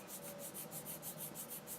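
Close, soft rasp of sandpaper working over Tamiya Calsonic Skyline model parts, quick even strokes repeating in a steady rhythm, faint and alone.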